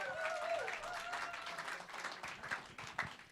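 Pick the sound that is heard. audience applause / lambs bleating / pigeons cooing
audience applause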